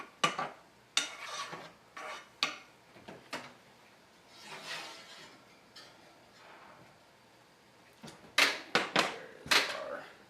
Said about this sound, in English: Just a quick stir.